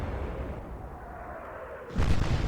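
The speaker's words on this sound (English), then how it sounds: "Another huge explosion on the Rodney." In the Atlantic Fleet naval game, a muffled rumble of battle gives way to a sudden loud explosion aboard the battleship Rodney near the end, and the blast keeps roaring afterward.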